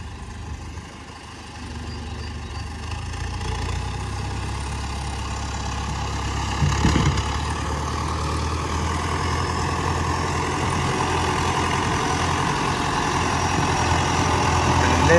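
A heavy MTZ tractor diesel engine runs steadily at idle, close and loud, with a brief thump partway through and a rising hum toward the end.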